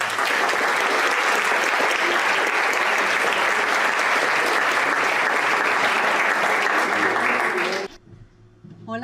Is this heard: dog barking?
no